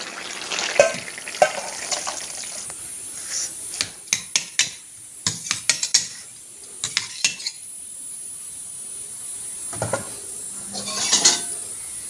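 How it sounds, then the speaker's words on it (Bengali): Vegetable curry is stirred in a frying pan in a village kitchen: intermittent scraping and clicking strokes of a spoon against the pan, some in quick clusters, over a faint background sizzle. "একটু নাড়াচাড়া দিয়ে নামিয়ে নেব।"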